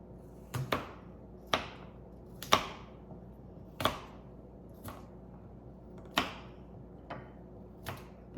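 Knife chopping cranberries on a cutting board for cranberry white chocolate chip cookies, eight or so sharp, separate chops spaced about a second apart, close and clear with no talk.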